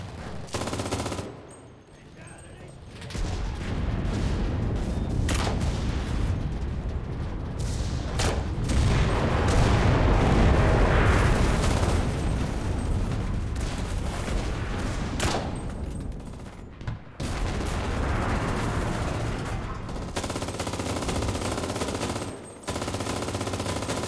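Gunfire from the video game Enlisted rattles in sustained machine-gun bursts mixed with single shots and heavy booms, loud and dense for most of the span, easing briefly at the start and near the end.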